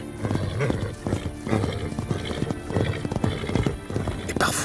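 Pottok horses, a small primitive breed living almost wild, thud their hooves in a steady clip-clop, and one gives a loud whinny at the end.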